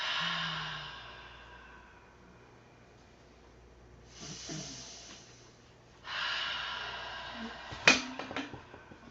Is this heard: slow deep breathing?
yes